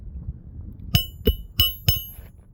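A hammer strikes an old roof shingle that is shedding granules, giving four sharp, close knocks at a slightly uneven, roughly steady pace over quiet background noise.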